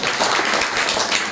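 Members of a prayer-meeting congregation clap in a brief, dense burst of applause, steady and fairly loud, with no talking over it.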